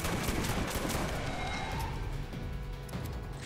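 A pump shotgun in Borderlands that fires six rounds per click, heard as dense, rapid bursts of gunfire that fill the stretch with loud, continuous crackling.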